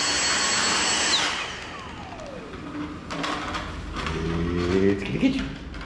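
A vacuum cleaner runs loudly at first, then its motor winds down in a falling whine, followed by scraping, knocking handling noises and a brief voice.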